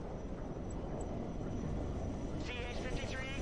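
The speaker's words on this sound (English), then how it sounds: "Plane flying over." Military plane passing overhead in the real-time strategy game Broken Arrow, a broad roaring wash of jet noise that swells slightly near the end, with voices talking over it.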